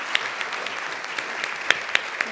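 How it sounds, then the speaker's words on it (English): An audience at a conservation forum claps in a steady round of applause, a dense patter of many hands at moderate distance with a few sharper individual claps standing out. "I'd like to have all of us join again in a round of applause"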